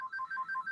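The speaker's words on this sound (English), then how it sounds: "Have to excuse my phone's going nuts here." A mobile phone ringtone goes off in a repeating electronic two-tone pattern, several quick pulses at a steady rhythm, close and clear with no talk over it.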